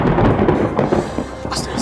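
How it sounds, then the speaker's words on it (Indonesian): Loud thunder rumbling through a stormy night, heavy low booms under shouting voices calling out, with a sharper crack near the end. "di luar banyak petir, Bu."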